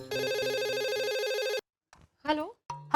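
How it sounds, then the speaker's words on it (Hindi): A telephone rings with a steady electronic tone for about a second and a half while someone places a call, followed by brief silence and then a short burst of speech. "मैं माधवी भाभी को फोन करती हूँ।"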